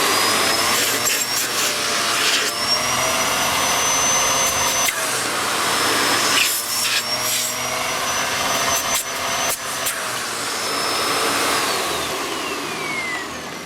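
A Hoover Purepower U3470 1700W upright vacuum cleaner running with a fairly full bag, giving a loud, steady, close whine and rushing roar of suction throughout, with brief dips as it moves.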